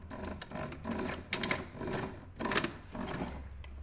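A sewing machine stitches a fabric strap, beginning with a short reverse run, its motor whirring in close, uneven bursts with brief pauses between runs.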